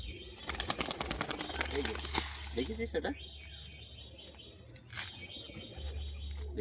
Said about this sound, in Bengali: এটা ফিমেল পায়রা একদম নিচ থেকে বাজি